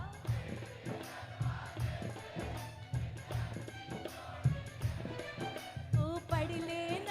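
An audience at a Khatu Shyam bhajan event sings along together without a microphone, a loose crowd chorus with steady rhythmic hand clapping and a droning harmonium-like accompaniment, no single voice standing out.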